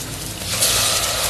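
Mint, green chili and ginger-garlic paste sauté in oil over a low flame, giving a steady, loud broadband hiss and sizzle that swells slightly midway and holds throughout, with no voices.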